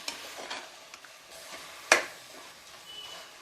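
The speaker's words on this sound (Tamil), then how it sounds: "கறியை நல்லா வதக்கி விட்டுருங்க" Mutton sautéing in a pan, a low steady sizzle with light stirring scrapes and one sharp metallic clink midway, close and with no talk.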